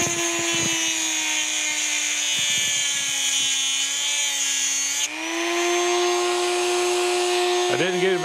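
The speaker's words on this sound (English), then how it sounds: "I'm just gonna use a little Dremel tool here with a little a wheel on there" A small Dremel rotary tool fitted with a cutting wheel grinds grooves into a part of a Kurt machine vise, a loud steady high whine running throughout with a brief pitch shift midway.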